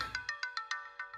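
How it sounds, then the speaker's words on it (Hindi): A phone ringtone plays close and clear, a quick run of bright electronic chimes in an even rhythm, on its own for just over a second. "आंटी, अर्जेंट फोन है, प्लीज।"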